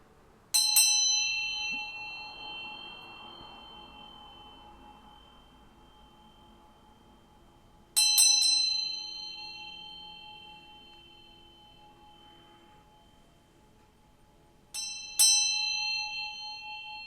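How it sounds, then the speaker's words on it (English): A small bell struck three times, each ring loud and clear with a bright sustained tone that fades slowly before the next strike, spaced several seconds apart with no voices. "I'm going to ring this bell to bring in some good vibes"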